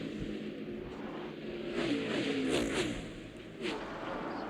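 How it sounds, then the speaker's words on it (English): A NASCAR stock car engine roars at the 2001 Cracker Barrel 500, revving and swelling as the car opens up, a loud continuous race-engine drone with pitch rising and falling. "Dave Blaney opening it up, Matt."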